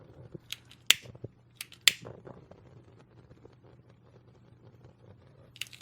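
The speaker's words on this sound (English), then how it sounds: "Let me take a long neck lighter type deal. just quickly go over the surface." Long-neck lighter clicking as it is passed over a resin surface: a few sharp, separate clicks stand out against a quiet, low hum, with long gaps between them.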